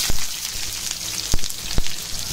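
Onions frying in hot mustard oil for Odia-style chicken kasha: a loud, close, continuous sizzle with a few sharp spatters and pops.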